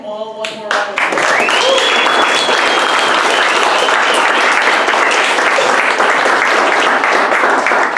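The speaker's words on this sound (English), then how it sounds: "Why don't we give them all one more round of applause?" Sustained audience applause for five startup teams at a weekend pitch event in Iowa City, a dense crowd clapping that starts abruptly after a brief opening and continues loud and steady to the end.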